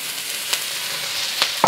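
Lean ground beef, about a pound, sears in hot oil in a pan with onions pushed aside, giving a steady close sizzle and crackle with a couple of sharp scraping stirs.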